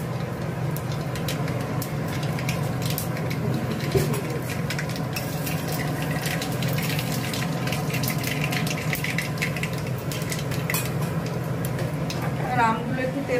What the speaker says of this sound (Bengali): আমি শুধু সর্ষে একটু ফোড়ন দিলাম তেলে